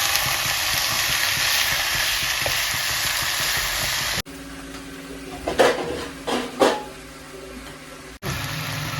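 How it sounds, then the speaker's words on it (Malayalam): Chicken that was washed and coated in salt and turmeric goes into a hot pan, setting off a strong steady sizzle and steam hiss, joined by a few louder stirring scrapes midway, with no voice. "നമ്മൾ നേരത്തെ നല്ല കഴുകി വൃത്തിയാക്കി ഉപ്പും മഞ്ഞൾപ്പൊടിയും ഇറക്കി വെച്ച ചിക്കൻ ഇതിലേക്ക് ഇടുന്നു."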